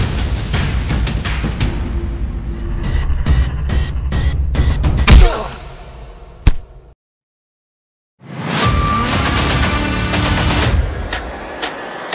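Rapid bursts of loud gunfire from a Hindi action film, a dense volley of shots, then a sharp bang, a brief silence, and another sustained burst of automatic fire.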